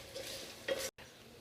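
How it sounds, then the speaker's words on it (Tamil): Onions sautéing in a pan, a soft steady sizzle with a quick stir or scrape partway through and a brief dropout before the frying resumes, close and fairly quiet. "வெங்காயம் நல்லா வதங்கியாச்சு."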